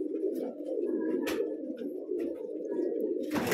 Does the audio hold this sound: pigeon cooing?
yes